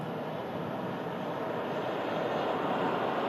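A Qatar Airways Airbus A350 arriving from Doha at Manchester Airport gives a steady, broad jet roar that holds even and loud throughout, with no voices over it.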